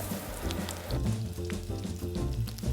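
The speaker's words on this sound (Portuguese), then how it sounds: "Agora eu retiro eles da panela e refogo o restante das carnes." Sausages, pork loin and dried beef sear in a hot pan for a Brazilian feijoada, giving a steady, close crackling sizzle with sputtering pops throughout and no voices.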